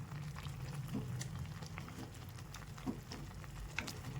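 Thick orange pulp bubbles and simmers steadily in a pan, with soft irregular pops and plops over a low continuous hiss, close and fairly quiet.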